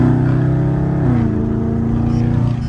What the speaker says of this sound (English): I'm gonna put it to the floor and watch what it do.